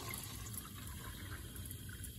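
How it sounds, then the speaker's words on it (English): Water runs steadily from a tap into a cup, a continuous splashing gush filling it up, close and fairly loud, with no talking. "I'm gonna fill it up with some water right now"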